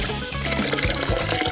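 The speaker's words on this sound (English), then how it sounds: "Twist the lid and let it pour." Liquid streams out of poked holes in a plastic bottle once the lid is twisted, a close, gurgling trickle and splash that runs continuously with bubbling pulses and no voices.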